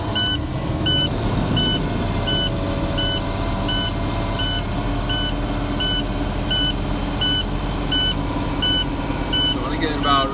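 A truck engine holds a steady high idle to build air-brake pressure, droning loudly and continuously while a warning beep sounds at a regular rhythm about every second above it.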